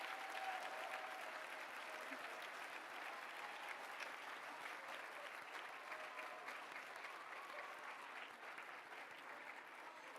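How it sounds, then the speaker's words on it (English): An audience at a ceremony honoring Dr. Martin Luther King, Jr. gives a sustained round of applause, dense steady clapping from many hands lasting the full stretch, heard from within the hall with no speech over it. "please give Major General Johnson another round of applause"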